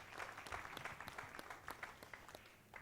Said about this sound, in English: can we have a nice round of applause hailing from Great Britain, Mr. Chris Melling.